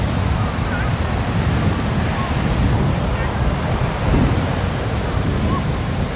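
Ocean waves and surf at Ketawang beach in Purworejo during a kite festival, a continuous wash of breaking water with wind buffeting the microphone, loud and steady throughout.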